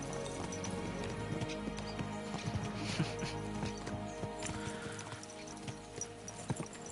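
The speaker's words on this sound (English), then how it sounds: "Let's really spur these horses on, eh?" Horses' hooves clip-clop steadily in the video game Kingdom Come: Deliverance II, a rhythmic trotting beat set against layered game music and ambience.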